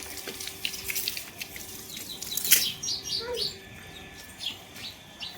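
Sparrows chirp in short, bright bursts near a house, heard over steadily running tap water and occasional faint voices.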